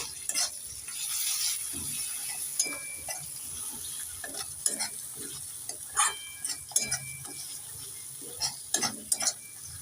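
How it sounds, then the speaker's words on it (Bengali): A spatula stirs turmeric and chili powder with a paste in a frying pan, making irregular close scrapes and clicks over a low sizzle, with no voices. "দিয়ে দেব হাফ চামচ লঙ্কা গুঁড়ো একটু নেড়ে চেড়ে দিয়ে দেব"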